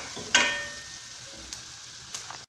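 Onions sizzle and fry in a pan for rice with vegetables, a soft steady crackle with a sharp utensil clink near the start and faint scrapes later.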